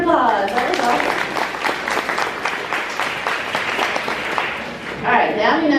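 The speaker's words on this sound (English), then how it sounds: "give yourselves a round of applause" Loud, dense applause from a seated audience at a mental health summit, sustained clapping throughout with voices and cheers mixed in toward the end.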